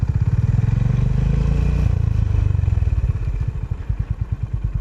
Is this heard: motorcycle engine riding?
yes